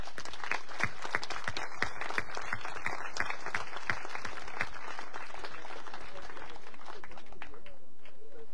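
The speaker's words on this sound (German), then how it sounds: "für alle können wir mal zusammen klatschen" An audience at an outdoor pilgrimage gathering in Wallenfels applauds, with dense, steady clapping from many hands that is fairly close and continuous, then gradually thins out toward the end.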